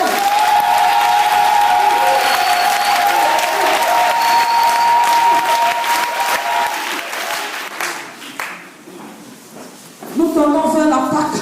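A church congregation at a Sunday service applauds and cheers loudly in sustained, dense clapping with a rising crowd roar, fading toward the end as a voice resumes speaking.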